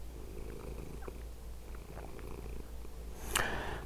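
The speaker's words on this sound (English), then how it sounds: "This is the Cat King Samson" A cat purrs in a low, steady rumble close by, with a brief sharp rustle near the end.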